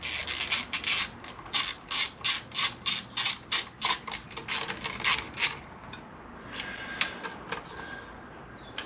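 A ratchet tightens small sprocket cover bolts on a 2003 Honda VFR800 VTEC motorcycle, a long run of evenly paced rasping clicks up close, slowing and trailing off into a few scattered clicks.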